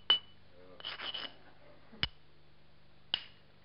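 Sharp, glassy clicks of a soft hammerstone striking obsidian while flaking a biface, three distinct hits spaced apart with a soft scraping in between, close and crisp.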